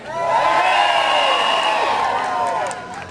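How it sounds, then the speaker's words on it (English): A large outdoor crowd at a climate march cheers and whoops loudly, many voices blending into a sustained roar that swells and then tapers off after about three seconds. "I think you should all give yourselves a big cheer."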